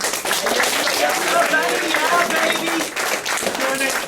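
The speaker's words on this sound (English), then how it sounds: "One final round of applause." Applause and cheering for varsity boys soccer seniors at a 2020 senior night, a steady crowd clapping with voices shouting over it throughout.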